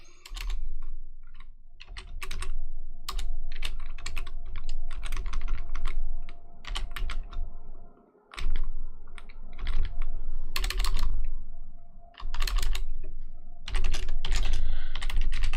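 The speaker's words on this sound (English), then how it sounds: "the author furiously typing away in front of me" Furious fast typing on a keyboard heard up close: rapid continuous clatter of keystrokes in dense bursts, with a couple of brief pauses, and no voices.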